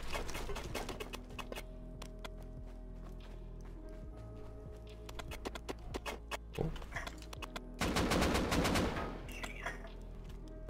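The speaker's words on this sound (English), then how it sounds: "who's shooting with an AK?" Bursts of AK rifle fire in the survival game Rust ring out as clustered cracks, with a heavy rapid volley near the end over a steady background hum; no talk.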